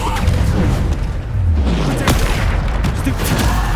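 A Descendo spell slamming down in Hogwarts Legacy, heavy booming impacts landing amid a dense, continuous roar of magical combat, loud and close throughout.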